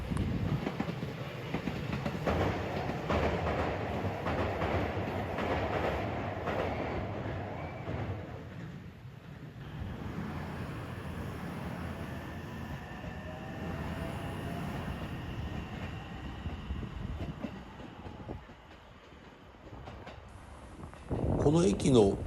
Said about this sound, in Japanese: 桜の中から列車がやってくるわけでございます。